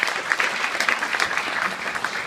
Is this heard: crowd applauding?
yes